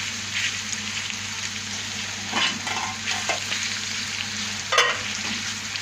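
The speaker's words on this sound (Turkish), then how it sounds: "kokoreçin kendi yağı kaldı üzerinde. İyice kavuruyoruz." Chopped kokoreç stir-fries in its own fat in a pan at home, a steady close sizzle punctuated by scraping stirs and a few sharper spatters.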